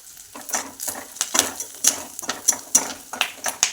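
Onions frying in a pan for tomato poha, stirred with a utensil that gives quick rhythmic scrapes and clinks against the pan over a faint sizzle, close and moderately loud.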